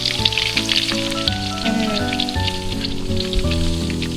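Crackly sizzling of fish frying in a pan at a campsite, steady and close, with tonal music playing underneath.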